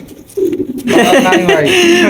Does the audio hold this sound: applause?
no